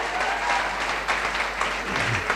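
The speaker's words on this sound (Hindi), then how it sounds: "मैं चाहूँगी मेरे गुरु अवधेश यादव के लिए एक बार जबरदस्त ताली हो जाए।" An audience at a seminar for women in a direct-selling business applauds in honor of a teacher, a loud, dense, continuous clapping close at hand with no break.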